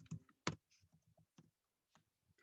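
Someone types on a computer keyboard in a few sharp, irregular clicks and taps, close and quiet, with one louder keystroke early on and pauses between presses.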